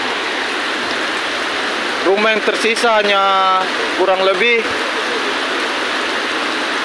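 A flooded river rushes steadily in a broad, loud wash of water noise, with someone speaking briefly over it in the middle.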